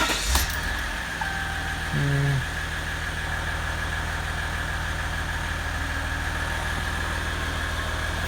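A 2016 Ram EcoDiesel truck with a no-boost fault idles with a steady low diesel rumble and faint hum throughout, after a brief starter-like burst near the start; a single short word is spoken.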